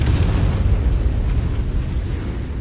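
Artillery shells burst in MechWarrior 5, a dense, continuous rumble of heavy booming explosions that stays loud throughout with no voices.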